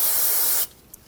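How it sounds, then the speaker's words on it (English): Brake parts cleaner sprays onto a clean rag during engine work on a 2005-2015 Toyota Tacoma 2.7L, a single loud, close, steady hiss lasting just over half a second before cutting off to near quiet. "Using a clean rag and some brake parts cleaner, we'll spray our rag."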